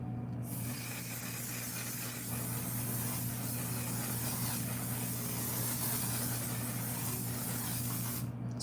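A steady, close hiss of makeup setting spray misting for several seconds, with a low hum underneath, starting and stopping sharply.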